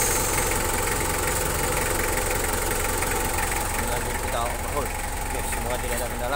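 A Mitsubishi Kuda Grandia diesel engine that blows by and has a fault when the AC runs idles in a workshop, a loud close steady clatter with knocking, while people talk over it.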